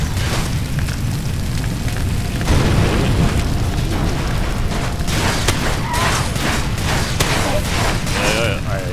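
Grenade blasts and gunfire in Far Cry 2 rumble continuously under a German voice, with heavy booming low end and scattered sharp cracks of shots toward the end.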